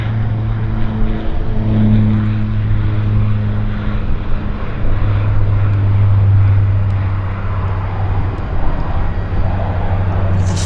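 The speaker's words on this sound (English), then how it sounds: "it's a neat looking airplane, the Metroliner" A Metroliner propeller airplane lands at Vancouver airport, its engines giving a loud, steady droning hum with strong low tonal notes that swell and ease over several seconds, close and continuous.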